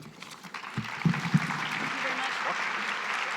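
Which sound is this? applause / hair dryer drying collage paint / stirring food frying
applause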